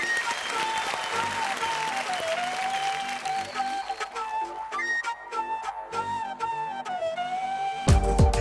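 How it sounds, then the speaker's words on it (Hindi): A studio audience on a Zee TV business pitch show applauds to welcome a team, the clapping mixed under loud upbeat music for about eight seconds, ending in a heavy bass hit. "जोरदार तालियों से स्वागत करते हैं टीम स्पिन इट अप का।"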